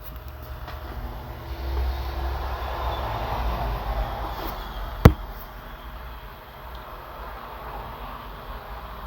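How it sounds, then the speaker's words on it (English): Lakeshore Limited passenger train speeding by on its way to Chicago, a steady rushing rumble of moderate loudness with one sharp click partway through, heard from a distance. "the Lakeshore Limited sped by on its way to Chicago"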